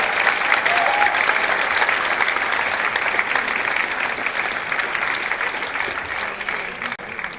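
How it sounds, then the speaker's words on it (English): An audience at a community evening event claps for a guest, a broad, sustained wash of applause that stays loud and even before tapering slightly near the end. "Please give her a round of applause"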